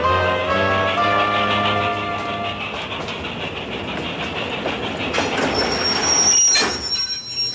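A train rolling along rails, loud and steady throughout, with sustained wheel squeal and a metallic whine rising near the end over a continuous rumbling roll.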